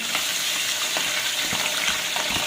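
Garlic fries in hot ghee mixed with oil in a pan, giving a loud, steady sizzle with light stirring scrapes throughout.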